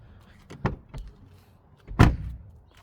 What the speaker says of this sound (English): Just press unlock button once, and now that should unlock all of the doors.